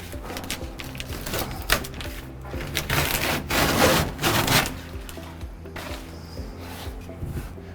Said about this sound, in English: I'm going to pull the release fabric and we can take a look at how the repair turned out.